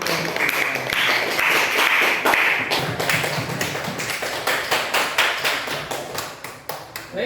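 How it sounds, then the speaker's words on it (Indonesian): Classroom applause after student group presentations in a physics lesson, a dense wash of many hands clapping that continues steadily, thinning into sharper individual claps toward the end. "Sekali lagi beri tepuk tangan"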